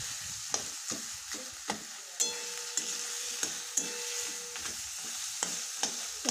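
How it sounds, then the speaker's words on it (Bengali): A fish head breaking apart as a spatula stirs it in a frying pan of hot oil for a fish-head kalia, with repeated sharp scrapes and taps over a continuous sizzle, close and alone. "তো ভালো মতন আমি খুন্তি দিয়ে নাড়াচাড়া করে নিচ্ছি"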